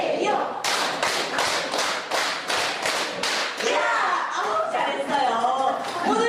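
A group claps eight times in a brisk, even rhythm at a filial piety instructor presentation. Each clap is a sharp, distinct hit, and the claps are followed by voices chanting and chattering.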